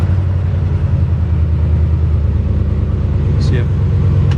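A 1965 Chevy C10 with a Trailblazer SS chassis swap idles with a loud, close, steady low rumble after a brief start, with a faint chirp near the end.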